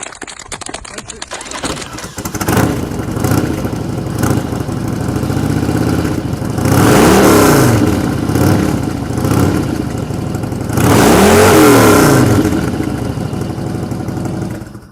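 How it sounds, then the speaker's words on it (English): A Harley-Davidson motorcycle with a Super Trap exhaust idles with a loud, low rumble and is blipped twice into strong revs that swell and fall back, close by. Brief bits of talk appear at times. "A Harley does sound nice."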